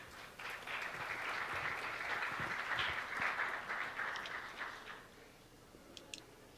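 A round of applause from a youth democracy summit audience for the panel members, moderately loud and even, thinning out toward the end with a few scattered last claps.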